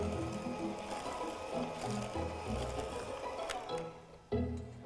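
An electric mixer briefly blending cupcake batter with added drained pineapple, a steady close whirring motor with uneven chunky churning, stopping near the end.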